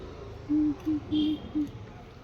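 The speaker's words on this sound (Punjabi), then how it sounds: "ਸਾਡੇ ਇੱਥੇ ਕੋਠੇ ਦੇ ਉੱਪਰ ਦੇਖੋ ਕਬੂਤਰ ਬੜੇ" Soft, low cooing from pigeons on a rooftop comes in four short phrases, fairly close, over a faint background murmur.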